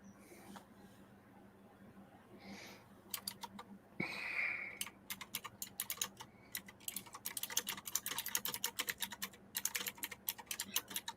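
Rapid typing on a computer keyboard, dense irregular clicking that starts sparse and builds into a steady run of keystrokes, close and fairly quiet with no talk.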